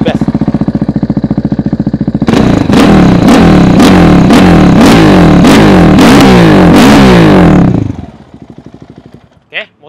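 A 2018 KTM Duke 690R single-cylinder motorcycle with an Akrapovic exhaust idles loudly, then revs in about nine sharp, rhythmic blips close by before dropping back to a faint idle.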